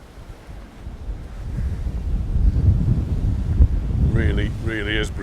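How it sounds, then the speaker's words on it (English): Strong sea breeze buffets the microphone on the seafront at Palmanova, Mallorca, a continuous roaring gust with surf beneath, and a voice speaks briefly near the end. "Really is breezy. It's always a bit breezy here, but especially breezy now."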